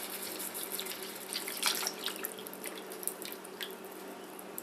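Skim evaporated milk is poured into a pot of chicken and rice soup, giving a steady soft splashing, trickling stream that stays fairly quiet and continuous throughout.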